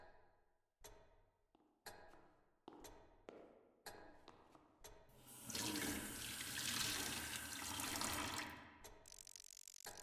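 Loud running tap water gushes steadily from a faucet into a bathroom sink or tub in the game Deep Sleep: Labyrinth of the Forsaken, preceded by a series of sharp mechanical clicks and knocks from the handle before the flow starts.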